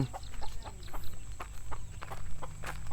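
Chickens clucking from inside a sack out by rice paddies, a steady run of short repeated clucks and squawks at close range with no talk.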